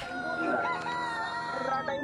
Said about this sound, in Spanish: ¡Canta gallo!